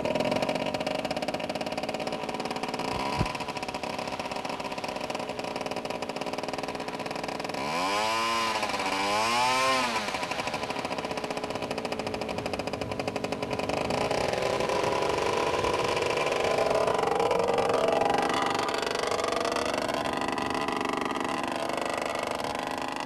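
A Moki 2500 engine powers a 22.5-pound RC model Mustang airplane, droning steadily with a buzzy tone throughout, with a rising and falling pitch sweep partway through as the engine revs, heard from a moderate distance.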